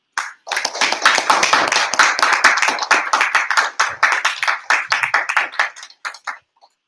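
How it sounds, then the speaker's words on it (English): Audience applause at a live Bharatanatyam arangetram dance recital: dense, loud clapping from many hands that builds quickly, holds steady, then thins out and stops near the end. "Please give them an encouraging round of applause before they present to you the first dance today."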